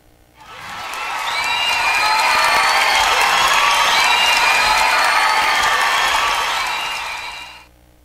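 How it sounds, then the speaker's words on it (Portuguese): A crowd applauds and cheers in tribute to Marlene: a dense, sustained burst of clapping with some shouts that swells quickly, holds steady for several seconds, then fades. "deixar aqui Marlene, uma salva de palmas"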